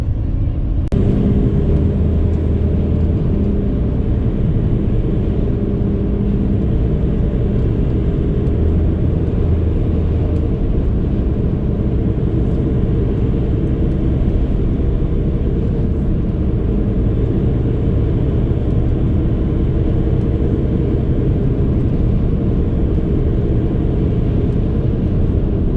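A vehicle crossing the Queen Elizabeth Bridge over the Thames, with a constant dense road and engine roar holding steady throughout, broadband and unbroken, with no voices.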